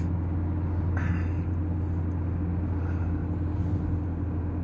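A car drives along a road toward an Aldi supermarket, a steady low engine and road rumble throughout with a brief passing swish early on.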